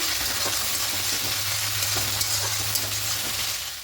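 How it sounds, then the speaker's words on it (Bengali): Ginger-garlic paste for a katla fish curry sizzles steadily in a pan of hot oil while it is stirred, a continuous close frying hiss with soft scraping, no voices. "খুব ভালো করে একটু কষিয়ে নেব কাঁচা গন্ধটা চলে যাওয়া পর্যন্ত"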